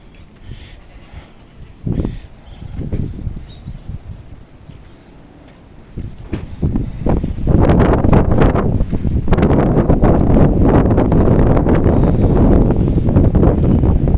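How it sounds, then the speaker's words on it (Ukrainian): Strong winter wind gusts carrying dry snow buffet the microphone, starting fitfully and then swelling into a loud, steady roar that continues to the end. "Вітер такий дмихає, що аж подих перехвачує."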